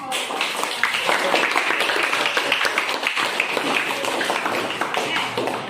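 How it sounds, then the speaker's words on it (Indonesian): Students in a classroom clap together, producing a lively patter of irregular hand claps that runs steadily throughout at moderate loudness, with some voices mixed in. "Baik, Ibu kasih tepuk tangan untuk semua."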